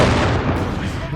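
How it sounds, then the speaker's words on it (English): Dense, rumbling explosions and artillery fire from a Company of Heroes 3 battle at El-Alamein, a loud, continuous burst of booming blasts with no pauses. "I do love some good explosions"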